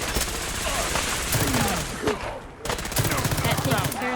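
Heavy, sustained gunfire in Fallout 4, overlapping automatic bursts and shots filling the scene loudly with a brief lull midway, while a voice speaks briefly among the shooting.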